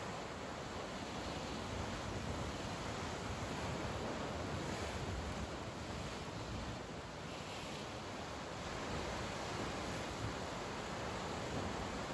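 Ocean waves wash in at the sea in a steady, enveloping surf, with light wind noise over the microphone and no voices.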